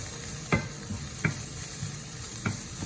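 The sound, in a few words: stirring vegetable rice frying in a pan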